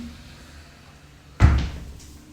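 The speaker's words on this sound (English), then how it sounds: "As you can see here, slide barn door. You can just close this section for your cooking." A sliding barn door in a condo kitchen rolls shut with a single sharp thud partway through, heard close and alone against a quiet room.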